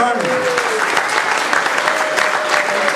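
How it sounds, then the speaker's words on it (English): Crowd at a Delaware Democratic Party jamboree claps warmly for John Carney, a full, even roar of applause lasting throughout, close and loud. "Big round of applause for John Carney"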